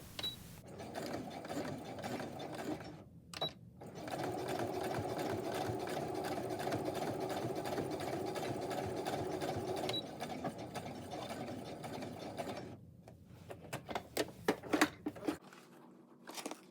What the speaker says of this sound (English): I'm going to take this to my machine and do a straight stitch